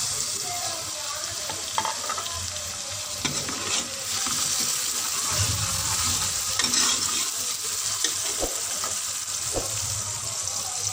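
Onions and tomatoes fry in a pan for a lauki dal, a continuous sizzle with scraping and clinking as they are stirred, plus brief watery sounds, and no one speaks.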